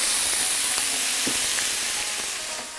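Two pounds of lean ground meat fry in a pan with a dense, steady sizzle and hiss, close and continuous, with a few faint scrapes of stirring and no voices.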